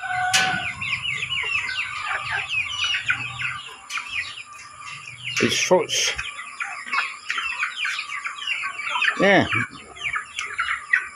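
A cockerel among a flock of chickens clucks in busy, repeated bursts close by, with a louder call standing out partway through; a person speaks briefly over the birds.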